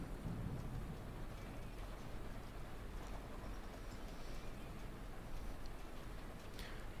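Steady broadband rain hiss from a Berlin city bus simulator game, continuous and fairly loud throughout, with a faint rumble underneath and no talking.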